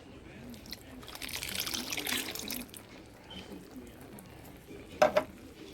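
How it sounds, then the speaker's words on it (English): Canned coconut milk poured into a pot of cooked yellow split peas, a soft liquid glug and splash with stirring sounds, followed by a couple of brief clinks from the can or pot near the end. "So I'm going to add some coconut milk into this."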